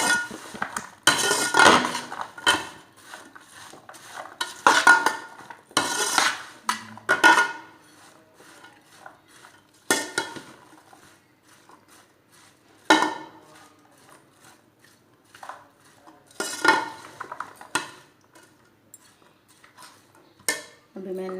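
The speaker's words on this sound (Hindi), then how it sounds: "इसको अच्छी तरह मिक्स कर लेना ऐसे।" A spoon stirs potato and apple chaat seasoned with chaat masala in a bowl, giving repeated clinking and scraping bursts in uneven strokes at close range, with pauses between.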